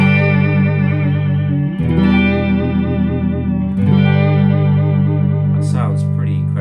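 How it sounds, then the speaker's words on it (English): A G&L USA Doheny electric guitar played on its front pickup through effects, sustained chords with chorus, distortion and echo, bright and trebly, loud and steady with a few chord changes and no talking. "spangly and trebly, this guitar"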